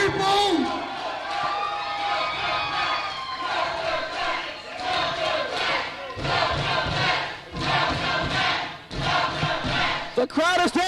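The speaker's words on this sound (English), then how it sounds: "The crowd is definitely welcoming back the returning Total Destruction." Wrestling crowd at an NWA Wildside show cheering and roaring loudly for a returning tag team, a dense, sustained wall of voices with shouts rising and falling, a few sharp bangs near the end.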